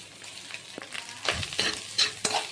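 Rice fries in a pan with egg and salt for fried rice, a soft sizzle broken by quick scraping stirs that grow a little louder and more frequent toward the end.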